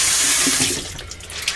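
Hot water runs from a sink tap for face washing, a close, steady splashing stream that eases slightly in the second half of a short burst.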